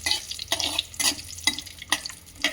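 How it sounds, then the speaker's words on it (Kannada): Cashews sizzling in a pan while akki rave upittu is being made, with a steady frying hiss broken by regular stirring scrapes about every half second, close and fairly loud. "ಗೋಡಂಬಿನ ಫ್ರೈ ಮಾಡ್ಕೊಳ್ತೀನಿ"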